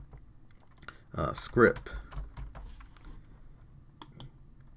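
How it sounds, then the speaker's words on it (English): Typing on a computer keyboard while working in a script editor for After Effects, scattered light key clicks close by with a denser burst near the middle, heard under a man's quiet speech. "inside here, I'm just going to type in"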